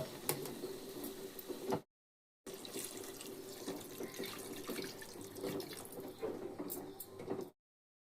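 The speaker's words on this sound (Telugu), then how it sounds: "కొన్ని వాటర్ అయితే పోస్తాను." Water pours into a pan of egg curry in a steady splashing trickle, cut off by a short silence, then running again for several seconds before stopping abruptly.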